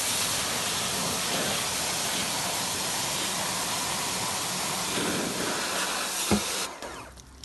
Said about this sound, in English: And I take the power sprayer,